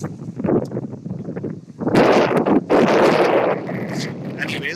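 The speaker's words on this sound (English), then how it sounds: "the wind is really starting to pick up again. It's gusting well 40, 50 kilometers" Strong gusts of wind buffet an open microphone outdoors at a cricket match, surging into loud broadband roaring bursts midway through, with speech heard underneath.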